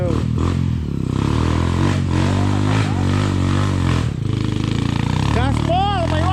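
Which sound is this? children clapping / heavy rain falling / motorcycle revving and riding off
motorcycle revving and riding off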